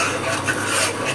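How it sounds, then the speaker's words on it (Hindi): Egg halwa cooked with ghee is stirred steadily in a pan, giving a soft continuous scraping and faint sizzle, close and alone. "ऐसे चलाते चलाते रहना है हमें।"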